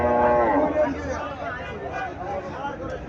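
A cow at a cattle market in Comilla gives one drawn-out moo up close, over a constant murmur of crowd chatter and voices.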